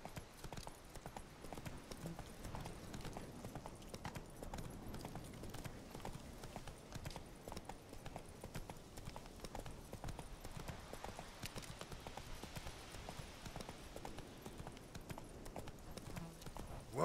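In the video game The Witcher 3, the horse Roach trots with a continuous, even clip-clop of hooves over a low ambient bed.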